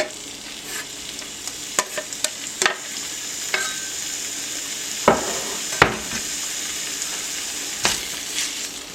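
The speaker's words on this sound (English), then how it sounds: "we want all the grease to cook off of the chunks of bacon" Chunks of bacon and onion cook slowly in a skillet with a close, steady sizzle, while repeated scrapes and knocks of a utensil stir the pan throughout.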